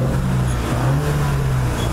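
A new Ford Mustang's engine runs at a steady, loud, low rumble, heard from inside the car with no voices over it.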